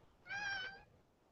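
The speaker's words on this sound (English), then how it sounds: "And that's my cat." A cat gives one clear, close meow lasting about half a second in an otherwise quiet room.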